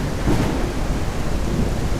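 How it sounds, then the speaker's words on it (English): Thunder rumbling low during a morning thunderstorm at a ranch, steady and close with rain hissing throughout for a couple of seconds. "We've got thunderstorms and lightning to start our day"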